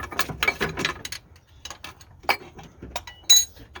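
A distributor is pulled out of a truck engine with metallic clicks, clinks and scraping bursts, close and intermittent, separated by short quiet gaps.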